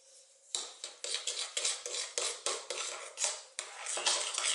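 A utensil beats pancake batter with green tea powder in a bowl, making quick repeated clinking and scraping strokes in an even rhythm. The sound is close and clear, and no one speaks.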